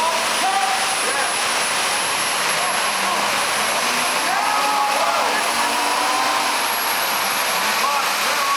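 A small jet engine fitted to the world's smallest jet-powered car runs at a Top Gear Live show in Dublin, giving a steady, loud, high whine and roar that holds throughout without letting up.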